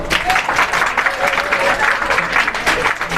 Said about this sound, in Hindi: इस बच्चे के लिए जोरदार तालियां बजाएं